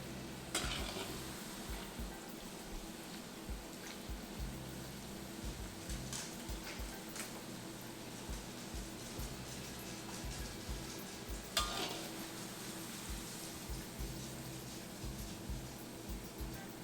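Vada pav potato fritters sizzle quietly in hot oil with a steady crackle, and an utensil knocks against the pan now and then.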